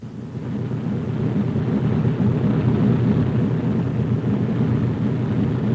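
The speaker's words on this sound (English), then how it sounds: "Cutting the inboard engines is the co-pilot's duty normally." Engines of a B-17 bomber rumble in a steady, loud low roar as the inboard pair are cut during taxiing, a continuous droning with wind-like noise and no talk.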